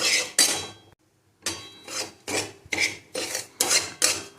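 Semolina (rava) roasts in a pan while a spoon stirs it in regular rasping strokes, about two a second, after a brief pause near the start.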